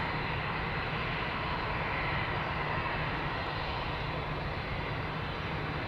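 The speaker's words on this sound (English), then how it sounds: "EasyJet A320 to Bristol in the meantime" An EasyJet Airbus A320 departs Amsterdam Schiphol Airport, its engines a steady, loud, broadband roar that holds constant throughout, with no voices.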